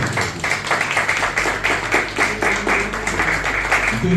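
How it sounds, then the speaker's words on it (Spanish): An audience at an arts gathering and awards event claps in steady, dense applause that carries on evenly throughout, loud and continuous with some voices mixed in. "Fuerte el aplauso."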